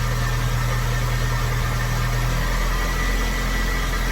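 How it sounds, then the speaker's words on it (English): A car engine brought out of storage idles steadily while warming up, with a low, continuous rumble and faint vibration, and its tone smooths slightly partway through. "as you hear, it's starting to warm up, the engine's starting to smooth out"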